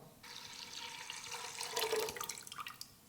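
Water pours from a tap or jug into a cooking pot of drained moong and masoor lentils, a steady faint splashing stream with dripping, no talk.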